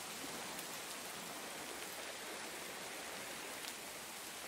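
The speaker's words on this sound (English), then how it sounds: "As the rain falls more steadily, it brings a sense of tranquility" Steady rain falls near the clear fairy pools of Portacloy, a soft, even, hissing wash of drops that stays constant throughout with no voices.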